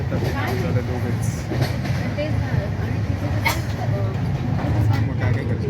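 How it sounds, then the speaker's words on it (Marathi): A Jan Shatabdi Express train en route to Goa rumbles steadily from inside a carriage, with a constant low roar and occasional rattles and clicks while people talk throughout. "आमच्या ट्रेनचं नाव आहे जनशताब्दी एक्सप्रेस"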